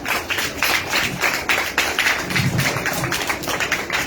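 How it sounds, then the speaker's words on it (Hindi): Children clapping for their classmates in a classroom, a steady patter of many small hands applauding together for several seconds, fairly close and without talk over it. "इन बच्चों के लिए तालियां, पहले क्लैपिंग।"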